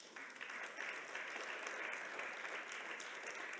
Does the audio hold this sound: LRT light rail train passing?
no